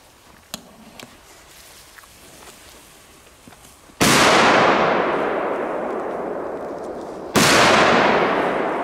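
Two sharp, loud Cobra firecracker bangs in a forest, the second a few seconds after the first, each followed by a long fading echo; faint pops and clicks precede them.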